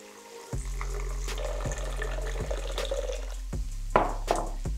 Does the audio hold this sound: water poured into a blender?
yes